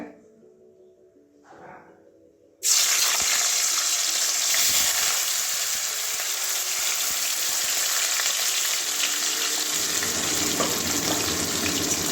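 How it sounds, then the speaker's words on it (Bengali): Paneer cubes drop into hot oil in a kadai and burst into a loud, continuous sizzle and crackle that holds steady to the end, after a few quiet seconds of faint handling noises. "এবারে পনিরগুলো ভেজে নেবো আগে"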